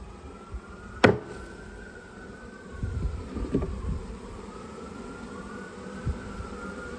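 Low, steady buzz of honeybee drones inside an opened hive, faint and continuous, with a sharp knock early on and a few soft thuds and handling sounds of the hive box.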